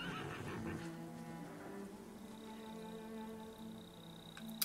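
A horse in the video game Ghost of Tsushima lets out a loud, close whinny that rises and falls for a few seconds over soft background game ambience, and then a small thump sounds at the end.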